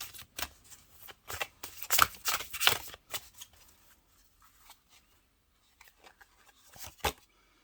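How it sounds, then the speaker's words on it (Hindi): Tarot cards being shuffled and drawn from a deck, a quick series of crisp riffling flicks and slides up close, then a pause before a few softer card snaps. "मैं एक कार्ड और निकालती हूँ।"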